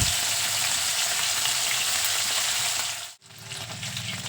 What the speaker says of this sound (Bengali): এরপর মাছগুলো দিয়ে খুব ভালো করে মাছগুলো ভেজে নেব